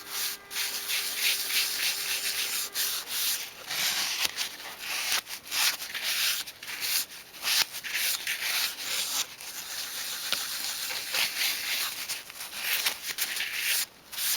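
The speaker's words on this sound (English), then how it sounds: "Just rub it on, circular motions." Clear wax rubbed in circular motions onto varnished wood of a 1/12 scale dolls house work table, a continuous close scratchy rubbing with rhythmic swells and brief pauses.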